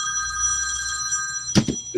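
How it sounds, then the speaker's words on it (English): A phone rings from a caller with no caller ID, a steady electronic tone with stacked harmonics held for about a second and a half, then cut off by a few short louder bursts near the end. "Who rings with no caller ID?"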